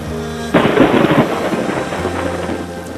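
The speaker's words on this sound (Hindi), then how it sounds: "मौसम बहुत तूफानी हो रहा है," A sudden loud thunderclap rumbles and rolls on amid a steady wash of heavy rain, with no voices.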